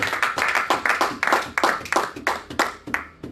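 A church congregation claps and applauds together, a dense run of repeated hand claps in loose rhythm that swells in bursts and fades slightly toward the end, with no voices over it.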